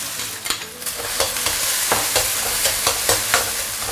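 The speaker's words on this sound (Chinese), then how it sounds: "快速给它炒散，好，来少许的蒜米" Shredded pork and a little minced garlic are stir-fried in a hot wok, with a continuous loud sizzle broken by rhythmic scraping strokes of the spatula, close up and without voices.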